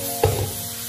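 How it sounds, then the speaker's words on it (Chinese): Cauliflower and cut scallion pieces being stir-fried in a wok, giving a short burst of sizzling and tossing near the start before settling into a steady low frying hiss. "再把切好的葱段加进来，继续翻炒均匀"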